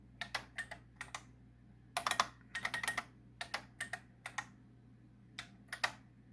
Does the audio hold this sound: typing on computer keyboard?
yes